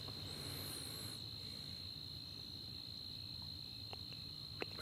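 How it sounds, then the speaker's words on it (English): Crickets chirp steadily on a calm, moonlit night with a gentle breeze, a continuous high, shrill trill sitting over quiet background hiss, with a couple of faint clicks near the end and no speech. "We've got the crickets in the background."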